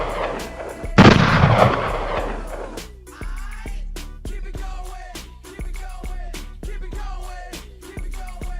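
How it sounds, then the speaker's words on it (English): Gunshot sound effects fire repeatedly in a steady, punchy rhythm, loud and close, with one heavy booming blast near the start and sharp cracks repeating throughout over a musical beat. "I want my gunshots riding throughout this"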